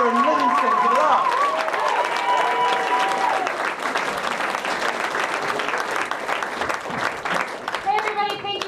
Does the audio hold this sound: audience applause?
yes